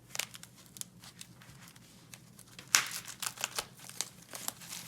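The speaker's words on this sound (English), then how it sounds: "so I'm gonna cut from the side." Close crinkling and cutting sounds as the packaging of a LEGO parcel is slit open from the side, quiet at first, then a sharper burst followed by a run of scattered crackles and snips.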